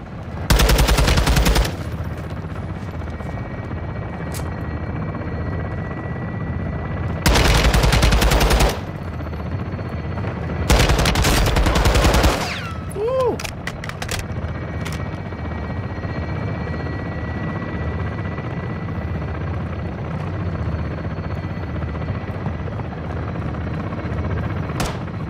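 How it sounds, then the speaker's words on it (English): In the Call of Duty: Modern Warfare II campaign, a helicopter gun run unleashes three loud bursts of rapid machine-gun fire, each lasting a second or two, over a steady rotor drone that continues alone afterward. "Weapons hot for gun run."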